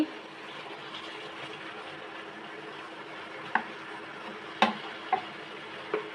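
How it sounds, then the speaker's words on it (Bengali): Olives frying in hot spiced oil for a sweet-sour pickle, a steady hiss with a few sharp clinks and scrapes of a spoon stirring against the pan, close and alone. "এখন এর মধ্যে আমি জলপাইগুলো দিয়ে দিচ্ছি।"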